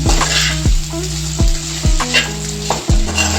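Egg noodles are tossed and stirred in a hot pan, sizzling loudly with regular scraping strokes and clanks of the utensil against the pan every half second or so.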